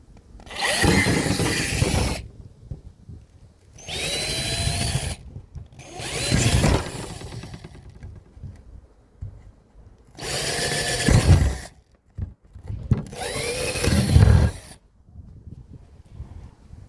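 Power drill boring holes through a motorhome door card panel, several loud bursts of a few seconds each separated by short pauses, close by.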